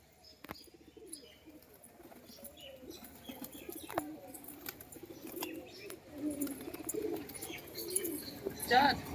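Pigeons in a loft, cooing in low, repeated burbling calls with a few sharp clicks and flutters between them, growing busier toward the end while quiet voices murmur in the background.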